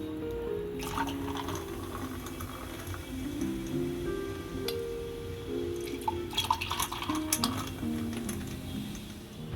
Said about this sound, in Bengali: এবার এর মধ্যে আমি লিমকা দিয়ে দেবো।